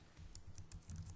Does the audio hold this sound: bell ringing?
no